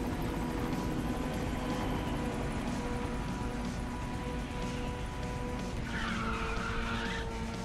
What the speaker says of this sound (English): Give it up for nitrous drifting.